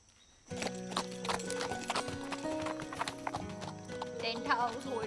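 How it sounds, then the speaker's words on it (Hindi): Horse hooves clip-clop steadily and close by, with a whinny near the end, under a busy mix of other sounds in a film scene. "तुम्हें घोड़ा चलाना नहीं आता ना?"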